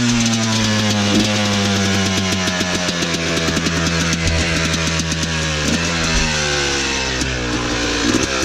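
Motorcycles riding through the woods, a loud close engine droning steadily and shifting pitch as the throttle rises and eases, filling the whole stretch with no talk.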